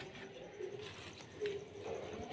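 Pigeons eating millet coo softly and repeatedly at a moderate distance, with low, rolling calls over a steady outdoor background.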